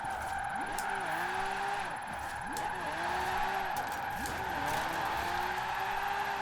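A monster truck drifts in the racing game Forza Horizon 4, its engine droning continuously while repeated tire squeals and skids rise and fall in rhythmic waves, loud and close throughout.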